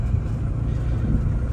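Turbocharged Honda F20B engine with a GT3582R turbo held at half throttle, a steady loud low rumble with no clear rise or fall across the short span.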